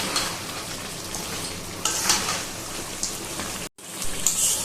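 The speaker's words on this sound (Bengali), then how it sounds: "ভালো করে মাংসগুলো একটু কষিয়ে নেব।" Chicken curry meat frying in a pan as it is stirred, a dense steady sizzle with bursts of scraping and spatula knocks, close and loud, briefly cutting out near the end.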